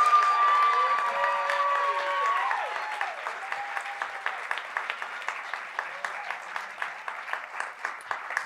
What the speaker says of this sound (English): Yes, clapping should happen.